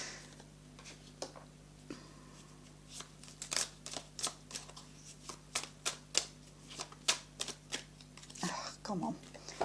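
A Marseille-style tarot deck is shuffled by hand, a series of crisp, rapid card riffles and flicks close to the listener, coming in irregular bursts over a low steady background hum.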